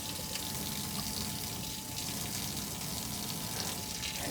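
Tap water runs in a steady, even stream during a surgical hand scrub with betadine and a nail pick, a continuous hiss with no break and no talking.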